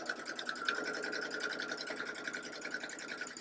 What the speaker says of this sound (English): let the machine pull it in, and I'm going to watch to make sure that the needle goes through that intersection of threads